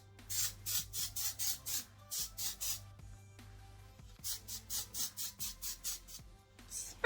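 Oribe hairspray sprayed onto curled hair in repeated short hissing bursts, about twenty quick pulses in two runs with a brief pause between, close and fairly loud with no talking.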